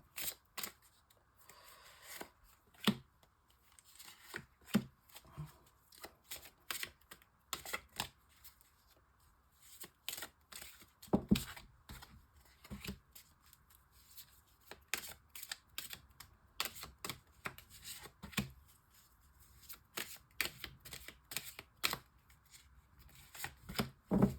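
Tarot cards being shuffled and laid out for a nine-card spread, a long run of soft riffling flutters and sharp card snaps in irregular bursts, close and quiet, with no speech.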